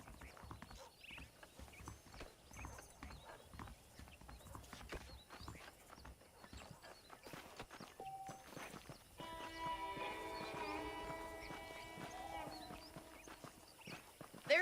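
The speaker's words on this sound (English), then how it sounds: "The horses are saddled up over here." Horse hooves clip-clop at a walking pace in Red Dead Redemption, a steady patter of footfalls over a western town ambience, joined midway by a layer of music.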